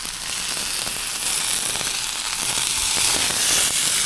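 Flounder fillet skin-side down in a hot pan, a steady loud sizzle and crackle of frying oil running the whole time with no talking.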